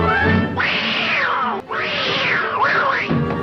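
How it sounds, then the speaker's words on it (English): A loud, drawn-out cartoon cat yowl in pain, realistic-sounding, rising and falling in pitch, breaking briefly then continuing in a wavering, pained wail. "The only thing you think about when you hear that sound is a real-life cat getting hurt."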